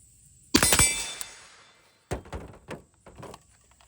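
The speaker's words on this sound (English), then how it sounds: "let's fire 300 Blackout first and immediately fire 338 ARC to see if we notice a recoil difference" A 300 Blackout rifle firing supersonic ammo, one sharp loud report that rings and decays, followed by a few lighter clanks and knocks about a second and a half later.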